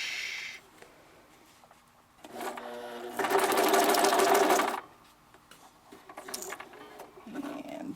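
Sewing machine stitching through paper snippets for a collage craft, running in short bursts with one louder, sustained stitching run in the middle and quieter pauses between.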